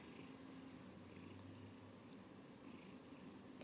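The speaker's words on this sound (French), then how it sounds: "Oh, ça ronronne ici." An eleven-year-old domestic cat purrs steadily and softly while being petted indoors, a low continuous rumble close up with no talking.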